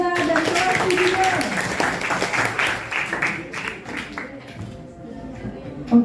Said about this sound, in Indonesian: Tepuk tangan untuk Dila dan kelas video